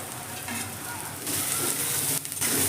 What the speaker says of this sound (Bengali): কারি পাতা দিয়ে পেঁয়াজের সঙ্গে ভালো করে আমি নেড়ে দিলাম।